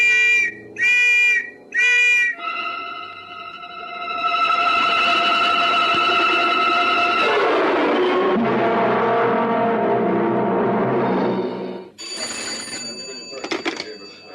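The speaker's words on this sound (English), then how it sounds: "blowing his whistle as he goes." A shrill police whistle sounds in one long, steady blast, preceded by three short ringing bursts and followed by a noisy, clattering stretch.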